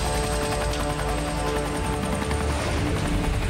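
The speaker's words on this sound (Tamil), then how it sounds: "ஹெலிகாப்டர் நிறுத்துறா" A cartoon helicopter takes off with a steady, loud, continuous rotor roar and a rapid chopping pulse, with no voices over it.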